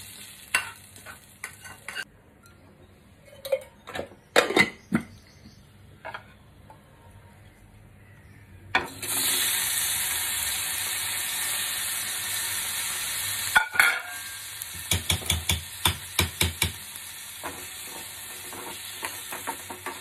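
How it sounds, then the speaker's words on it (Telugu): Food frying in a pan until golden brown for a spicy Telangana-style chicken curry, a steady loud sizzle running alone through the middle stretch, with scattered clatters and stirring knocks before and after. "ఇలా గోల్డెన్ బ్రౌన్ కలర్ వచ్చే వరకు ఫ్రై చేసుకోవాలండి."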